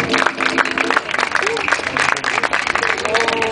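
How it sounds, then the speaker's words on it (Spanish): Audience applause at a live concert, dense sustained clapping from a crowd with voices mixed in, loud and continuous throughout. "un aplauso para ellos"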